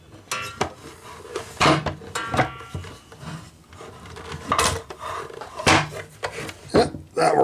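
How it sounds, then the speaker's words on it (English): Metal parts clank and scrape as the saw unit of a Proxxon KGS 80 mini mitre chop saw is pivoted off its base, irregular close knocks and rattles across several seconds. "Now I should be able to just pivot the saw unit off of the base."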